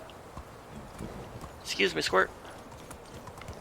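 Donkey hooves clip-clop in the medieval farming game Medieval Dynasty, a soft, steady patter running beneath a man's nearby speech.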